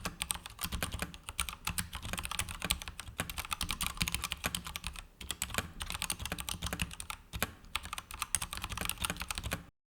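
Steady, fast typing on a Royal Kludge mechanical keyboard, with dense clacking keystrokes close up, a few brief pauses and no voices.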